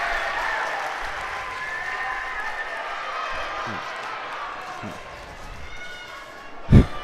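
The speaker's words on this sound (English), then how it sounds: "The crowd is getting loud." Crowd noise rising through a gym during a varsity boys basketball game between the Thermopolis Bobcats and Lovell Bulldogs, a steady broad roar with scattered cheering and a sharp loud burst near the end, a commentator talking over it.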